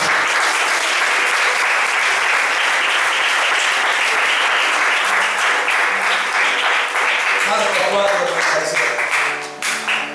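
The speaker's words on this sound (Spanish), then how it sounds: "Dile un fuerte aplauso." Loud, sustained applause fills a church revival service, dense clapping running steadily throughout with a congregation's voices mixed in, tapering slightly at the very end.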